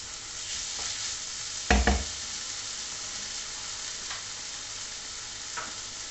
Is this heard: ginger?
yes